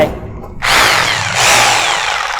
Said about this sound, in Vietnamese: Máy đang ở chế độ vừa khoan vừa đục ha, và mình đang sử dụng mũi khoan Heller của Đức.